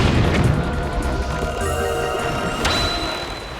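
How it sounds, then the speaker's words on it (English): Ship cannons firing in Zelda: The Wind Waker HD, a dull boom followed by a ringing crash and a sharp impact near the end, all close over steady game background sound. "you see these two cannons here? Let's blast them."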